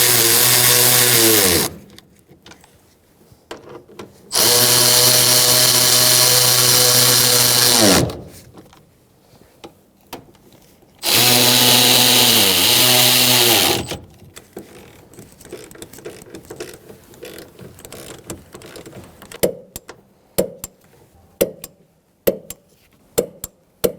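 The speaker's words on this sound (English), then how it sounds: "now we're going to tighten our nuts on the top" A power tool tightens the rear strut top nuts on a 2000-2007 Ford Taurus 3.0L V6 in three loud, sustained whirring bursts, each ending in a falling whine, followed by scattered clicks and clatter.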